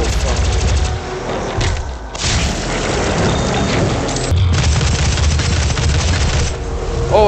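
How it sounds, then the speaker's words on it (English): Heavy booming blasts and thuds from combat in the DOOM video game, loud and continuous with brief dips, as a player talks over the chaos. "Oh, I exploded that."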